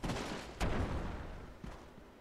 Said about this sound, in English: Three shots from Chien